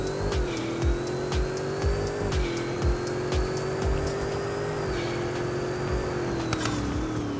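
Car driving in the Car Crushers video game with a steady engine tone that shifts slightly in pitch, accompanied by repeated short tire squeals and skids while braking, loud and close with no talking.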